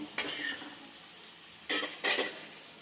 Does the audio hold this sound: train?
no